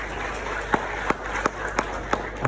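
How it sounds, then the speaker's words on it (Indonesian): An audience at a university graduation ceremony claps, with sparse, separate claps spaced out in a loose rhythm against a quiet hall background, heard at moderate distance. "Tepuk tangan untuk Gus Dur."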